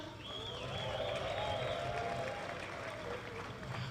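Crowd at a swimming championship in Kenya cheers and applauds steadily throughout, a dense wash of clapping with raised voices and whistle-like shouts, fairly distant and continuous.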